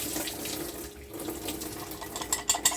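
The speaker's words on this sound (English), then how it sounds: "I'm gonna strain the water off my ackee now" Water from boiled ackee pours off into a strainer in a home kitchen, a steady close splashing rush that runs throughout with a few sharper splashes near the end.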